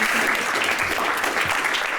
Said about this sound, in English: So I will first say a big round of applause for all of you guys.